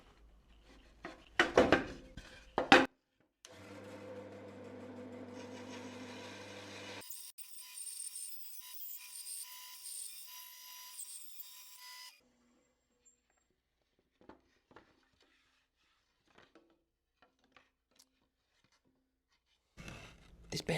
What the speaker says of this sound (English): This bandsaw's a piece of shit.